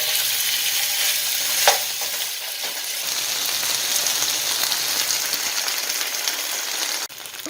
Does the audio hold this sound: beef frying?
yes